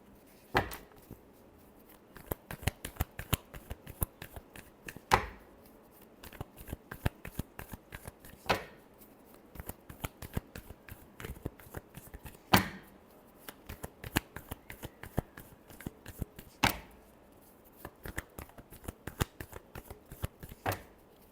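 Tarot cards being shuffled by hand, repeated crisp riffling bursts with quick flicks in between, close and fairly quiet, the rhythm regular across many rounds with no talking.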